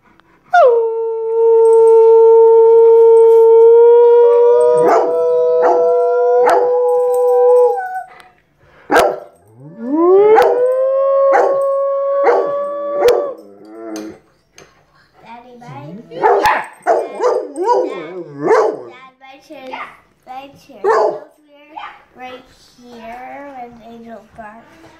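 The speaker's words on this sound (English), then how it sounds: "Let's see if we can make my dog howl." A pet dog howls in long sustained tones several times, then breaks into barks and yelps mixed with children talking and laughing close by in a home.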